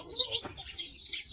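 A sparrow chirps near its nest, a few short high tweets close by and fairly clear against a quiet background.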